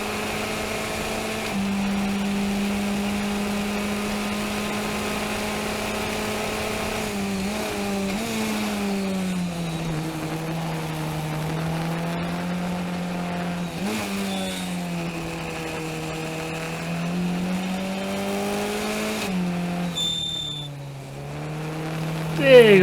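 Race car accelerating and shifting on a track during a 2019 Round 3 race, a loud continuous engine note rising in pitch through repeated gear changes and exiting a keyhole corner, with no speech over it.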